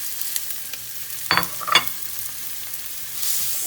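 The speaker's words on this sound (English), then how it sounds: "Stir this up." Leftover fried rice with salt and coriander-cumin powder is stirred in a pan: a soft, low sizzle with two quick scraping strokes in the middle and a slight rise in hiss at the end.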